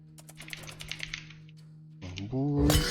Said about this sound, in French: Je vais jouer... clavier souris, je pense.